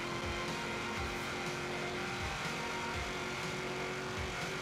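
A 1995 Ford Mustang Cobra R drag car with a 670 hp drag build in Forza Horizon 3 drives flat out, its engine roaring steadily with rhythmic rising revs from repeated gear changes, loud and continuous with no talk.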